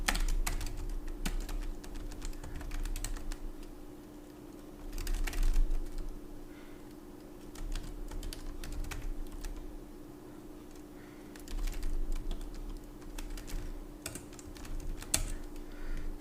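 Keys clatter steadily as code is typed on a computer keyboard, quiet and close, with short bursts separated by brief pauses and a constant low hum in the background.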